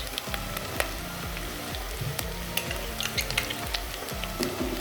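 Garlic paste sizzles and fries steadily in a pan, a dense close crackle with the repeated scrape of stirring running through it, with no talking.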